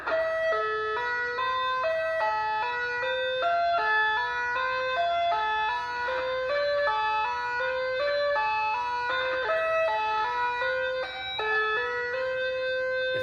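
A slow, even run of clean tapped guitar notes repeats a bright melodic phrase, each note ringing clearly in steady rhythm with no talking.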